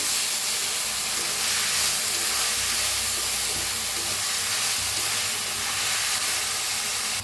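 Moth bean sprouts roasting with brinjal in a hot kadhai, giving a steady, broad sizzling hiss that runs unbroken and fairly loud throughout.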